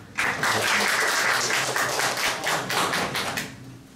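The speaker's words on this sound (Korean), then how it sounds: "다시 한번 큰 박수로." Audience applause for a speaker being introduced at a surgical symposium in a hospital hall, a dense, steady clapping that starts abruptly and fills the room before tapering off at the end.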